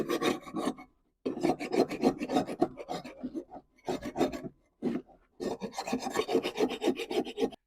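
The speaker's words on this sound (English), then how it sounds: "we want to scrape off the grass deposits first" Lawn mower blades being scraped clean of grass deposits, with repeated harsh rasping strokes in bursts separated by short pauses, close and fairly loud with no talking.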